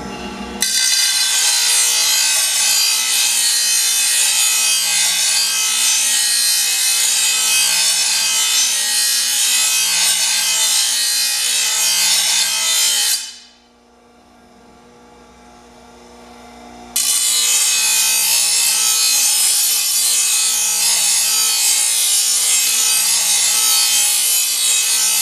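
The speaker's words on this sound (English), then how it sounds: "I think this blade looks just fine, but like I said, I'm going to sharpen it just for the video." A lawn mower blade being sharpened with a loud, steady rasping grind that runs continuously, breaks off for a few seconds, then resumes just as strongly to the end.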